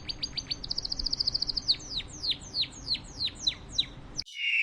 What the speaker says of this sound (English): Small and brightly coloured, canaries are known for their pleasant singing.